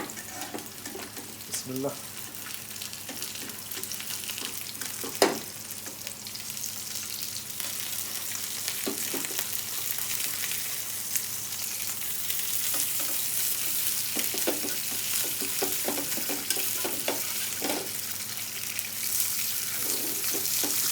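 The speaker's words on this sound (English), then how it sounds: "So I'm going to cook this fish a couple of minutes aside, and it should be ready shortly." Fish searing in a pan, a continuous close sizzle and crackle with scattered clicks and scrapes from utensils, while a voice briefly speaks.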